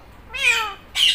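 A green Indian ringneck parrot mimics a cat's meow, giving two short, bright meow-like calls in quick succession, fairly close and clear with no speech around them.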